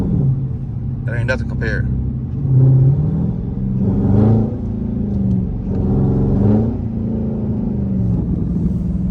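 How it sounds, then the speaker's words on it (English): A Dodge Charger or Challenger engine fitted with a Pedal Commander throttle controller in city mode +4 rumbles and swells in a few short throttle blips, close and loud, while someone talks over it. "Now watch me play with the throttle."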